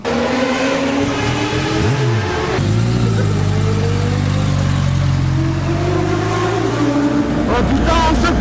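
A motorcycle ridden by a champion rider on a racetrack roars loud and close, its engine revving up through gears with rising pitch and a shift partway through, with wind rush and excited voices mixed in.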